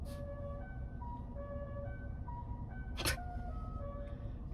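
Tesla Model Y Performance (2022) external speaker playing the La Cucaracha horn melody, a string of bright electronic tones heard outdoors over low traffic rumble, with a sharp burst partway through.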